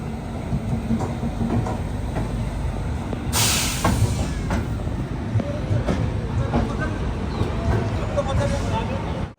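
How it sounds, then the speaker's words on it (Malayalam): A passenger train coming in to platform 5 at Khurda Road junction in Odisha, with a continuous rumble and clatter of wheels, a sharp burst of air-brake hiss partway through, and faint voices nearby. "ഗോർദ റോഡില് 5-ാം നമ്പർ പ്ലാറ്റ്ഫോമിലാണ് നമ്മളെ ട്രെയിൻ വന്നിട്ടുള്ളത്"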